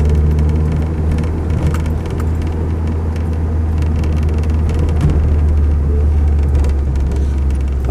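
A Land Rover 110 CSW engine idling in hot weather, hesitating from fuel vaporisation, a loud, close, continuous low rumble with slight unevenness and no talking.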